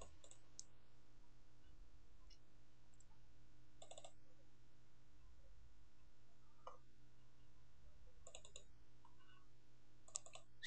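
Computer mouse clicks while working in Sony Vegas Pro 10 on a Windows PC: sparse, sharp single and double clicks at irregular intervals over a quiet hum, close and fairly soft, with no talking.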